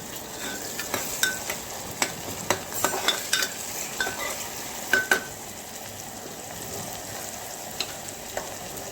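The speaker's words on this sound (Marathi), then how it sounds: "चांगला मसाला देखील तेलामध्ये भाजून घ्यायचा आहे" Masala fries in oil with tomato and onion for pressure-cooker mutton biryani, a moderate steady sizzle broken by clustered spoon scrapes and clinks against the pan, thinning out toward the end.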